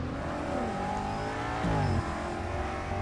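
A 617-horsepower BMW engine revs up and climbs in pitch, then drops back to a steady drone, loud and close with no talking.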